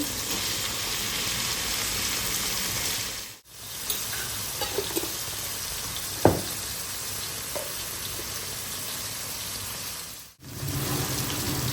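Onion and garlic sizzle in hot oil in a pan, a steady close frying hiss with a few faint clinks and stirring sounds, briefly cut off twice.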